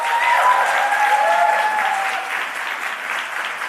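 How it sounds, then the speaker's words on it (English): Audience applause at a symposium for Dr. Nombasa, a steady, dense wash of clapping from a crowd that holds strong throughout and eases slightly toward the end, with faint tonal sounds under it. "Let's give Dr. Nombasa one last round of applause."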